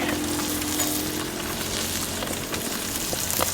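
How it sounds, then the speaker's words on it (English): Bacon crackles and sizzles steadily in a hot pan on a camping stove outdoors, a dense, even hiss with small pops, close up and without any talking. "Sizzle up, break our bacon in half."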